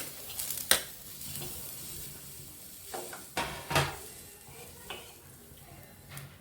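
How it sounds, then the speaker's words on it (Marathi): Grated coconut roasts in a pan, with a faint, close sizzle broken by several sharp scrapes and clinks of a spatula stirring against the metal. "खोबरं भाजून घेऊ।"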